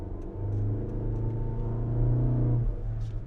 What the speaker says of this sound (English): I can actually hear the suction, the induction of the engine. It's got that deep growl to it